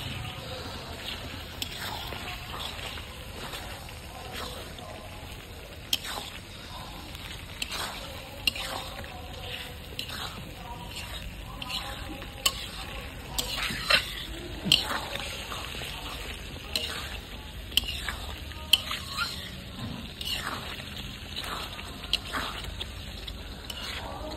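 Sour yogurt is stirred into chicken kosha cooking in a pan, giving a soft, steady wet stirring and gentle sizzle with occasional scraping clicks of the spoon over a long stretch, fairly quiet, with some speech.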